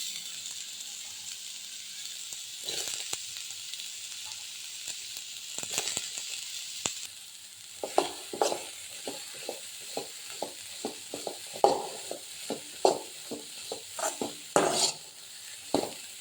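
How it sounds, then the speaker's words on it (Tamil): Bitter gourd fries with softened onions in a pan, a low sizzle under a quick series of metal spoon scrapes and knocks against the cookware that grows busier and more rhythmic partway through. "பாகக்காயை சேர்த்து நல்லா வதக்கிக்கோங்க"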